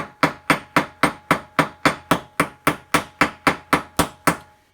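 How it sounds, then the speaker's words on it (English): A speargun flopper pin is struck with a hammer on the flat of a metal vise to round its edges, about fifteen sharp, evenly spaced metallic taps ringing close by with no talk. "You don't want to hit it one time too hard and bend the pin"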